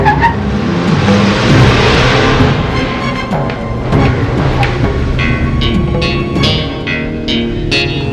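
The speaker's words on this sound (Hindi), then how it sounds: "विक्रम, विक्रम गाड़ी रोको, मुझे तुमसे कुछ बातें करनी है।" A car drives along at close range with a steady engine rumble and road roar, joined by scattered sharp clicks and knocks in the second half.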